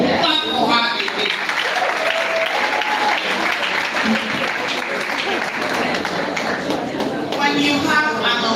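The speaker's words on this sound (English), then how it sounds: "Clap for her again." An audience at a live educational event claps for a speaker, steady dense applause throughout with cheering voices and some talk mixed in.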